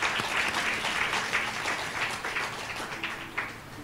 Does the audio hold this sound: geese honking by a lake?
no